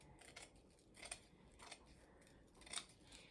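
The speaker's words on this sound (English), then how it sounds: "And I'm going to cut it." Scissors snip through ribbon being cut for a summer wreath, several quiet crisp cuts spaced irregularly, close up and faint, with no talking.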